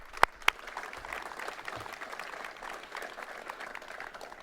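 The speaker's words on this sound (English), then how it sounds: "Let's give them all a round of applause." An audience at a water treatment plant upgrade and expansion event applauds in a steady, moderately loud wash of clapping, opened by two sharp louder claps near the start.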